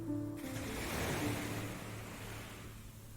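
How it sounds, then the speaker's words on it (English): Ocean waves wash against an island shore in a steady, broad rush of surf that swells and eases slightly, with no voices. "the sound of the waves activates the parasympathetic nervous system, which promotes relaxation."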